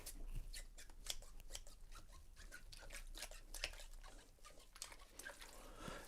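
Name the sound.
scissors being washed up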